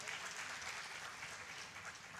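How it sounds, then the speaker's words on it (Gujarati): Applause from the crowd at a religious gathering for a swami, a soft, distant-sounding, continuous patter of many hands lasting a couple of seconds. "એવા માયાતીતાનંદ સ્વામીને જોરદાર તાળીઓથી વધાવો ભાઈ"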